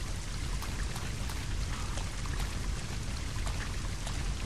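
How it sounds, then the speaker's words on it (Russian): Steady rain pours down outside barracks in Resident Evil Code: Veronica X, a dense, even hiss of falling water with faint scattered drop ticks, continuous and fairly loud throughout. "Бараки, дождь идет."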